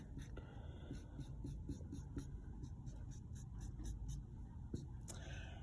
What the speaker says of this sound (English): Let me draw some lines here.